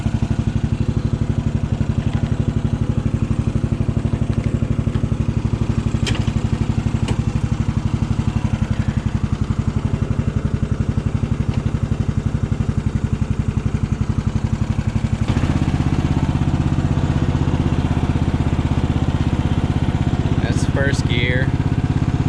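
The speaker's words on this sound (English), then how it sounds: "let's see if it'll just crank up now at idle" An abandoned riding lawn mower's small engine runs at idle, a steady close rattling putter that grows louder and rougher partway through, with someone talking over it.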